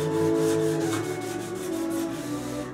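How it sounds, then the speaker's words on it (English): Wet sanding a TV cabinet by hand with 400-grit wet-or-dry sandpaper and soapy water, a steady close rubbing hiss with quick back-and-forth strokes, no talk. "So I'm wet sanding it with 400"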